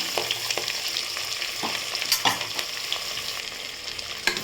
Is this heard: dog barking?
no